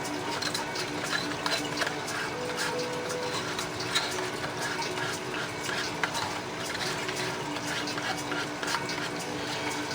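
Two-part semi-rigid gray roto-molding plastic gets stirred in Dixie cups, a continuous fine scraping and swishing with irregular small clicks of the stirrer against the cup walls.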